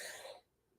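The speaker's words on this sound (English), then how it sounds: "I am going to cough a little bit through this." A single short cough from a person, fairly close and brief, fading quickly into quiet.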